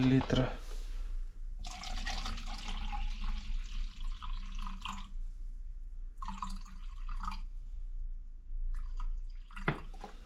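Water is poured into a container to dilute windshield washer fluid, giving bursts of trickling, splashing liquid in separate pours with gaps between them, close by and moderately loud, along with a short sharp clink near the end.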